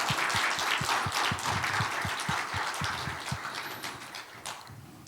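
A church congregation claps for a combined choir at a Christmas service, a dense crowd applause with rhythmic low thumps, steady and then gradually fading toward the end.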